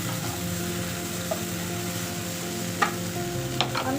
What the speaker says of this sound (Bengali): এর মধ্যে আমি এবার চিংড়ি মাছগুলো মিশিয়ে দিচ্ছি।